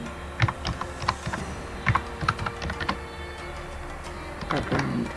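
Someone types a search on a computer keyboard with quick, uneven runs of crisp clicks and brief gaps, close and clear over faint room hum, with no talking.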